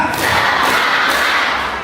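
A school audience at an Isra Mi'raj commemoration claps together in a patterned cheer, a dense, loud burst of hands that swells and then eases off.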